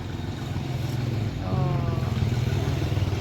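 A two-wheeled walking tractor used for ploughing rice fields runs close by with a chugging single-cylinder beat, its engine rising in pitch and loudness partway through and then holding a steady throb.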